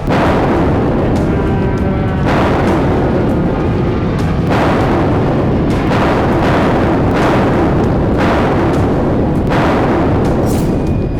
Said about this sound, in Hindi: एक ही मिनट के भीतर 10 से ज्यादा धमाके हो रहे थे।